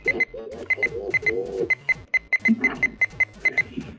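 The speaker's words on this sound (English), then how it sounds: "the button beeps sound like your typical 3 a.m. microwave" An Oregon Scientific WR606 weather radio gives a rapid series of sharp, high electronic button beeps, each like a microwave keypad tone, pressed in quick irregular succession over a low background rumble.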